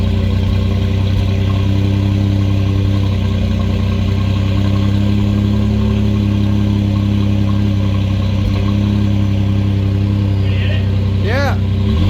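A Ford F150 with an aftermarket exhaust and turbo idles steadily and loudly up close, a deep constant drone with a faint turbo whine, and a brief rising whistle near the end.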